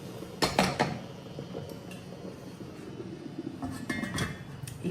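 Metal cookware clinks and clatters as a lid is set onto a pot of simmering squash pieces on a home stove, a cluster of sharp clanks early followed by lighter clinks over a steady kitchen background.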